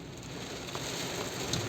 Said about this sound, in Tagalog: Malakas pa rin yung ulan, sobrang lakas pa rin.